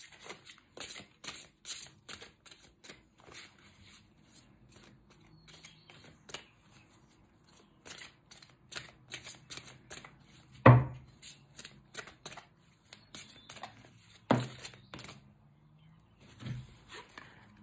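Oracle cards being shuffled by hand in quick, crisp riffling bursts, with one card dropping out in a sharp thump partway through; no talking.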